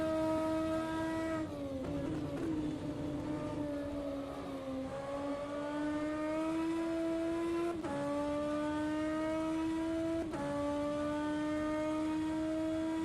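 A 2021 BMW M4 Class 1 DTM race car in the rFactor 2 racing game at Monza, its engine droning steadily and loud, rising in pitch through each gear with sharp drops at every upshift.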